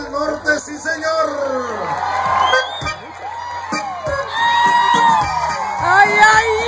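A concert crowd welcoming the performers cheers and whoops, with shouts and excited voices rising over a noisy, lively hall, fairly close and loud.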